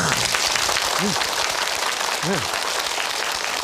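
Audience applause during a Korean health lecture on genetics and cancer: steady, dense clapping fills the whole stretch at an even level, with brief voiced sounds rising over it twice.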